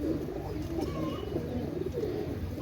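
Pakistani fancy pigeons, including Cobra Teddy birds kept for sale, coo softly and repeatedly at low volume against a quiet background hum.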